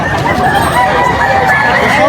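Chickens cluck and crow amid a busy crowd at a pet market in Angeles, with people chattering nearby in a steady market din.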